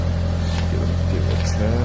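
Audi S3 8L with a 1.8L BAM engine and Milltek exhaust, running with a steady low drone and a slight rise in revs, close and loud, with no talking.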